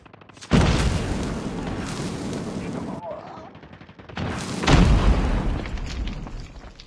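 Two heavy grenade blasts go off in the mobile shooter Call of Duty Mobile, each a sudden loud boom with a long rumbling tail, the second arriving a few seconds after the first.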